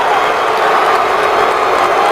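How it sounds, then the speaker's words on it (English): Loud crowd noise at an NFL game in a big stadium, a steady roar of fans jeering the Eagles after a final defensive stop, filling the whole span without letup. "the crowd lets the Eagles have it as Kyle Wilbur makes that last stop"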